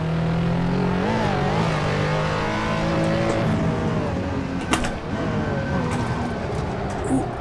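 A RUF CTR Yellowbird racing around the Nordschleife in Assetto Corsa, its engine droning and revving steadily and loudly throughout, with pitch sweeps from gear changes and brief tire noise.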